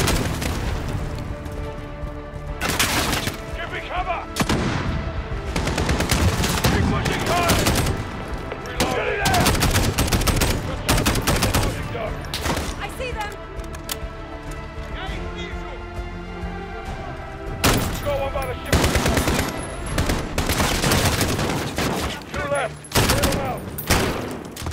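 Gunfire in Call of Duty: Modern Warfare comes as rapid bursts and sharp shots mixed with heavy booms and explosions, loud and close, with brief pauses between volleys.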